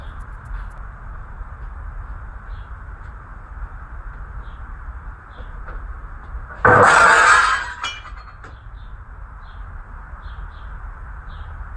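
A brand new window pane shatters in one sudden loud crash, its glass tinkling briefly as it falls, against a steady outdoor hiss with faint bird chirps before and after.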